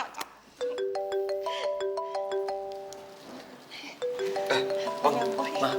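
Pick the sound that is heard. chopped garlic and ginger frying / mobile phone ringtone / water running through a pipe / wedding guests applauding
mobile phone ringtone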